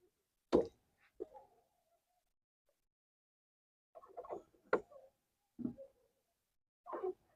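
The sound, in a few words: water dripping through a leak being tested with aluminium tape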